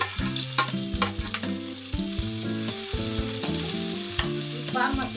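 Onions fry in a pan with a bright, constant sizzle and occasional stirring scrapes, set against a tonal musical backing that plays throughout.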